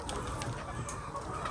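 Layer hens in a poultry shed cluck in a steady, busy flock murmur, with scattered sharper calls standing out against a continuous background of birds.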